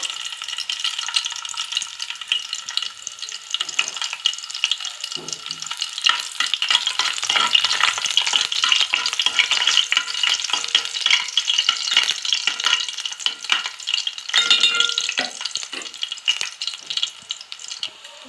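Garlic cloves fry in hot oil for a cucumber chutney tempering, a bright, dense crackling sizzle that holds loud and steady throughout with scattered spattering pops.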